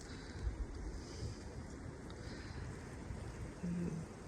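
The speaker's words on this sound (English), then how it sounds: "There's the boat." Low rumbling engine drone and rushing wind over water, with a steady wash of waves; no voices.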